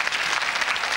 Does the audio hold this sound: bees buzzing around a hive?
no